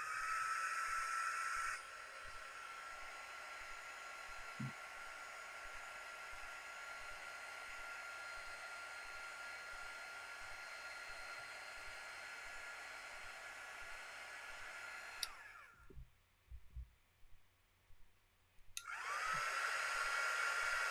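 Hair dryer blows on watercolor ground painted on a wood slice, a steady close hiss and whir that runs for long stretches, cuts off briefly with small handling knocks, then starts up again.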